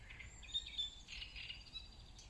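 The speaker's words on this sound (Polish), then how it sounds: "Śpiewają również inne gatunki ptaków." Birds sing in a Polish forest in spring, faint high chirps and short warbling phrases at a distance over quiet background.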